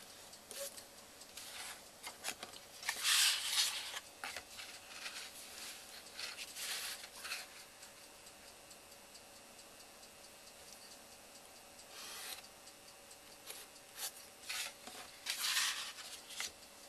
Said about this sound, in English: We just miter off the corners.